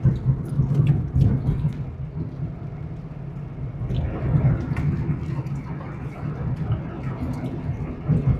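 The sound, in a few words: rain falling on a moving car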